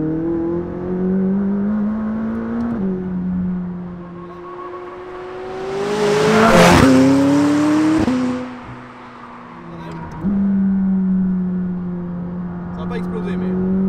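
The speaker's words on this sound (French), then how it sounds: "ça fait des explosions dans l'échappement" A McLaren 600LT's engine runs and shifts gears from inside the car, with rising and falling revs, a loud burst around the middle and sharp exhaust pops on the ignition cuts.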